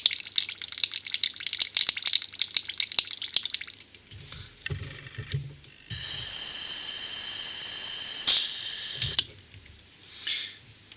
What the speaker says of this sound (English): now you can get yourself some cleaner and do another backflush with the cleaner.